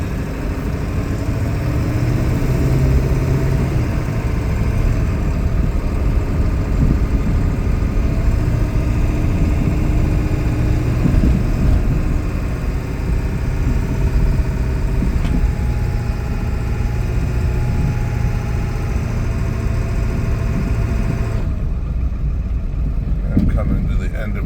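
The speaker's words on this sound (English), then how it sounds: "I'm going to go up my side street here and let you hear it run through the gears." A car heard from inside as it drives up a residential side street through its gears, its engine droning steadily and loudly throughout, with a voice talking over it.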